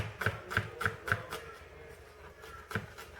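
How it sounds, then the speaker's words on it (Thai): Knife chopping chillies on a board, a quick run of sharp taps followed by a pause, then one more tap, close and clear. "เราต้องหั่นพริกก่อนนะคะ มาหั่นพริกกันค่ะ"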